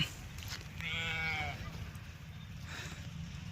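A single drawn-out sheep bleat, fairly close, wavering in pitch over a low rumbling outdoor background.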